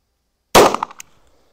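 A single loud, close 9mm pistol shot fired with a Magnum primer, a sharp crack followed by a short ringing decay with no talk.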